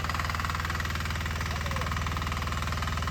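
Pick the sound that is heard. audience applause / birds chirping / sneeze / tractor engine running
tractor engine running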